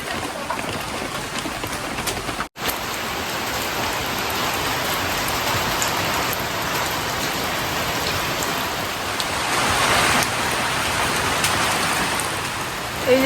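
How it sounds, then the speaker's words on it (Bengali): Heavy rain pouring down on a day of downpour, a dense, loud, unbroken hiss of drops on surfaces close by, swelling slightly toward the end, with no talk. "এই যে বৃষ্টি হচ্ছে এখন আবার,"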